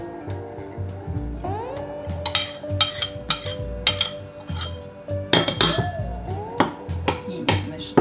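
A spoon clinks and scrapes against a bowl in a run of sharp, irregular knocks while walnuts are stirred with vanilla sugar and oil for baklava. Faint background tones sit under the clatter.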